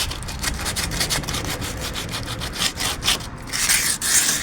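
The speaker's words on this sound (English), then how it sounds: "just take some sandpaper and just slightly give a nice sand down" Sandpaper is rubbed over a wooden window frame while old window putty is being replaced. The steady back-and-forth scraping is loud and close, with rapid rhythmic strokes that run unbroken and no voices.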